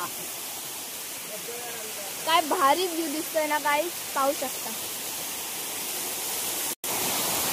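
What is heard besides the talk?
waterfall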